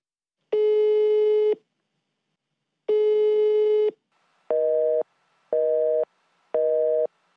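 Two long electronic telephone tones, then three shorter repeated beeps at a steady rhythm, clear and alone with silence between them, from an unanswered call.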